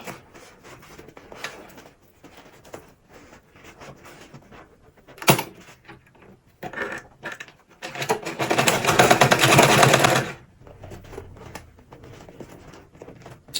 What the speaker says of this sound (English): So now we are going to sew from here like this straight to this place.